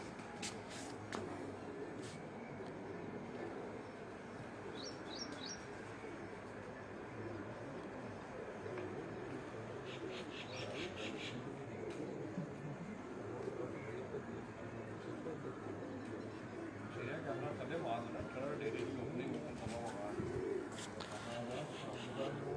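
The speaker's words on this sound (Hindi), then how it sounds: "मेरा कबूतर आ गए नजर आते" Pigeons cooing on a rooftop at a pir's dera in Amra Kalan, Dinga, with soft repeated coos and faint chirps sitting in steady outdoor background noise, while voices talk intermittently.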